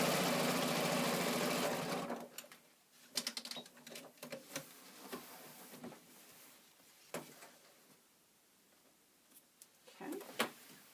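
A sewing machine stitches channels into a piece, running in a busy burst at first, then in short, irregular stop-start runs with quiet gaps between them.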